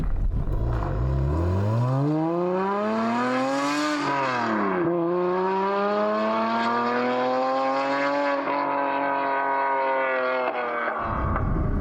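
A Lotus Emira sports car, tuned to about 460 hp, revs hard through the gears, with a loud, close engine note that climbs, drops at each shift and climbs again for several seconds.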